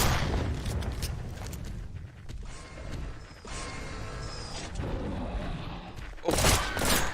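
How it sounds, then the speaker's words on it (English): Grenade and rocket launcher blasts in the shooter game Revulsion ring out over a rumbling, mechanical game soundscape, with a loud, sharp explosion burst near the end. "Oh no, it's a grenade."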